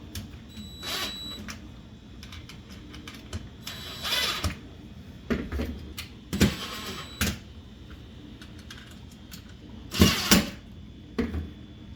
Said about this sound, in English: then you go ahead and tighten down your screws